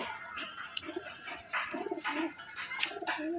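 Madras pigeons cooing close by in a home loft, with several soft, throaty coos over low background noise.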